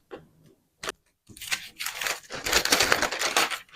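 Scissors cutting through fabric to shape a U neckline on a garment: a few isolated snips, then a dense, crisp crunching run of continuous cuts, close and fairly loud with no talk.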